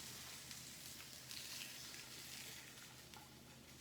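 Mushrooms and cut-up sausage fry in a pan, giving a steady, soft crackling sizzle with faint scattered pops and no talking.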